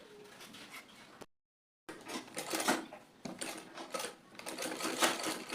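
A sewing machine stitching a round bra cup piece, running in short uneven bursts broken by a brief silent gap, close and fairly quiet.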